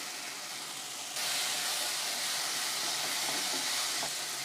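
Chopped capsicum sautéing in a pan for capsicum tomato rice gives off a steady, close sizzling hiss that swells louder after a second and carries on evenly, with no one speaking.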